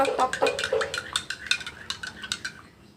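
A spoon clinking and scraping against a glass or cup while a reddish-pink drink mixture is stirred, quick irregular metallic taps close by, fading slightly toward the end, no talking.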